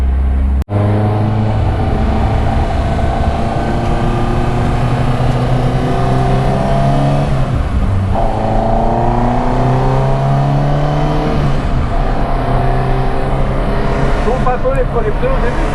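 Track cars, among them a Porsche GT3 RS, running on the Nürburgring Nordschleife: loud, continuous engine drones that rise and fall in pitch as cars rev and pass, with people chatting over the noise throughout.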